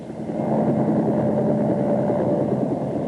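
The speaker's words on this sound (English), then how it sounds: "Actually, the rotor noise sounds like this." Helicopter rotor noise fills the scene as a loud, steady, close mechanical drone with a rumbling low end that holds constant throughout, with no voices over it.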